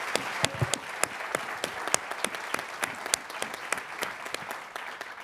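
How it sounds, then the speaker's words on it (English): An audience at a panel discussion for filmmaker Karen Thorsen's James Baldwin documentary breaks into sustained applause, a dense wash of overlapping claps with sharper individual claps standing out, steady for about five seconds. "can we just start by giving her a round of applause again for this extraordinary work?"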